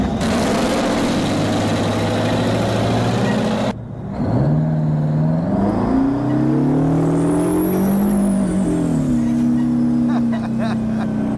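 A huge 8-ton truck with a 1,500 cubic inch, 2,200 horsepower engine rumbles loudly, then drops off and revs up again with rising and falling engine pitch, sustained and close throughout.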